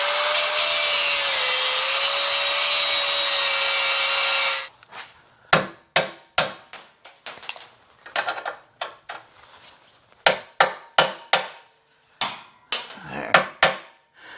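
A cutoff wheel screams steadily for about four seconds while slicing old exhaust fittings on a 1973 Mercedes 450SL, then stops and gives way to a string of sharp metallic knocks and taps.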